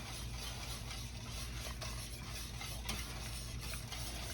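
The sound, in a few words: stirring roux into simmering chicken pot pie filling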